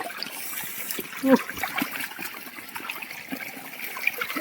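A steady trickle of water running down from above at a temple in Honnavar runs continuously, with a brief faint voice partway through.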